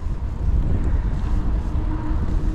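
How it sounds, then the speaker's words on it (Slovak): Side wind buffets a microphone while riding along a road toward Lake Balaton, a loud, steady low rumble and roar with no talk. "Príjemný bočný vietor."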